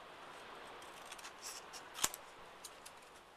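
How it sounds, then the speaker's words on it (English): Scissors snip the corners off a paper card in a quiet room, a few faint close cuts with one sharper snip standing out, no talking. "And then trim the corners"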